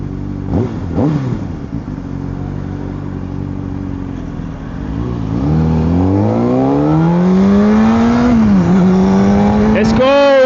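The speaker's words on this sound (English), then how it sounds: "Superbike coming through." A Honda CBR600RR superbike engine revs hard while riding, rising in pitch as it accelerates, with steady wind rush and a brief voice over the engine.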